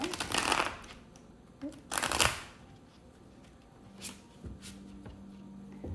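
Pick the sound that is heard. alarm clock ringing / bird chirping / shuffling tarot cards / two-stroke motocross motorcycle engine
shuffling tarot cards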